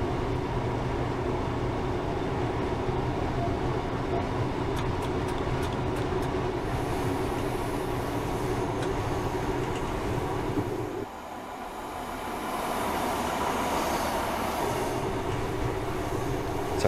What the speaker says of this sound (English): just going to shut off the power and allow the train to coast